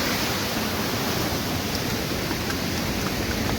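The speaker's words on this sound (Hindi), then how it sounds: "जो भी आप ये पानी देख रहे हो, जो झरने देख रहे हो" Waterfalls pouring along the Amarnath Yatra mountain route near Sheshnag, a steady, dense rushing roar of water with no break, loud and close throughout, no voices.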